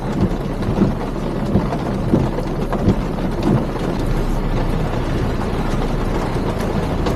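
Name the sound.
heavy rain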